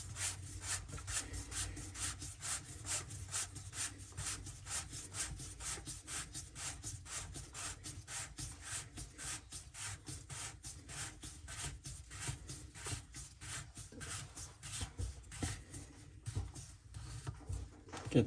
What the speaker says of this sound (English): you tighten up your set nut